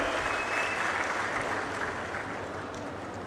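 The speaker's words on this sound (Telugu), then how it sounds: "అందరూ కూడా గట్టిగా చప్పట్లు కొట్టి అభినందనలు వారికి చెప్పాలి" Sustained applause from a large crowd at a Swachh Andhra–Swarna Andhra public event in Anakapalli, a dense continuous roar of clapping that holds steady and eases slightly toward the end.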